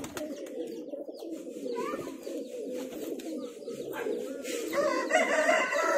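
Highflyer pigeons, including a twenty-year-old bloodline, coo in a steady low throaty murmur from several birds close by, with occasional sharper calls and rustles over it.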